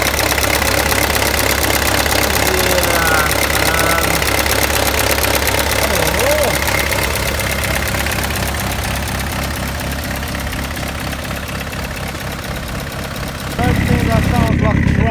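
A Peugeot 306 diesel turbo engine, just fitted with new injector seals, idles steadily up close with a loud, even diesel clatter and rumble that shifts slightly in tone near the end.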